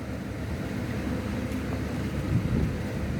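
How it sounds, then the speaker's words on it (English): Gusts of wind blowing outdoors across a phone microphone, a steady broadband rumble and rush that swells briefly stronger near the end, with no talking. "And now here we have the gusts of wind."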